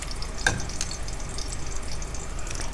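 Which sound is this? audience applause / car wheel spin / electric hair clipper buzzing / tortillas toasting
tortillas toasting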